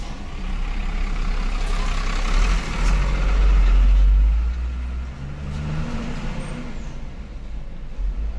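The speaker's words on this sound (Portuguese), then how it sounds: "O caminhão passou assim, ó." Truck passing close by a car on a city street, heard from inside the car as a loud low engine rumble that swells to a peak midway and then fades away, with some road noise and no talking.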